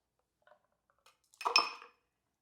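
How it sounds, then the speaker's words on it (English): A Sawyer cocktail poured from a shaker tin into a glass: a short, close splash lasting about half a second, preceded by a few faint taps. "and then go ahead and pour everything out into your glass."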